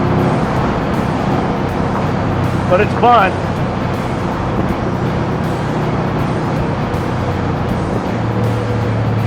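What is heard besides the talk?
1961 Corvette with TKX gearbox driving at speed in traffic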